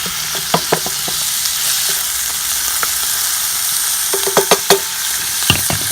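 Onions caramelize with bacon and garlic in a pan on a Weber Smokey Joe grill, a loud, even sizzle broken by scattered sharp clicks and scrapes of stirring.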